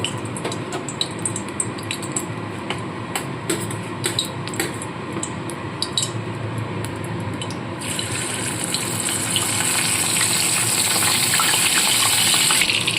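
Boiled cabbage pieces go one by one into hot mustard oil, giving a steady broadband frying hiss that swells louder and denser partway through as more pieces hit the oil, with no talking.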